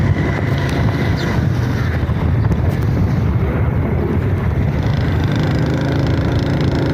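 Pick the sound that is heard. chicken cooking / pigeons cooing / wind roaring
wind roaring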